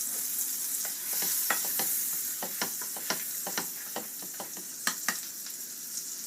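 Food frying in butter in a pan, a continuous close sizzle broken by frequent crackles and the scrape of stirring, no voices heard.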